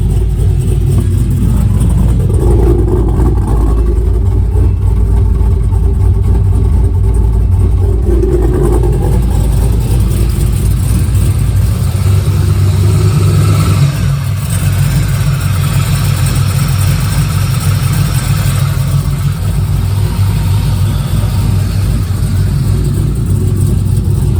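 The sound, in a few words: 6.7L LQ4 V8 engine running in 2001 Pontiac Firebird Trans Am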